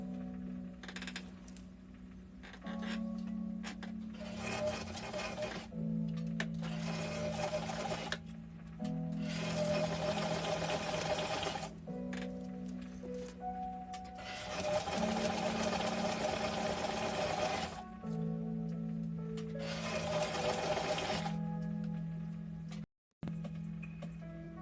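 Sewing machine stitching a seam, running in several bursts of rapid close-up mechanical whirring separated by brief stops and handling noises.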